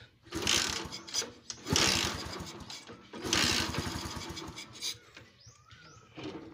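A Kawasaki Bajaj CT 100 motorcycle with a fault that stops it starting and makes it stall is tried three times, each attempt a short burst of chugging engine pulses followed by fading and a pause.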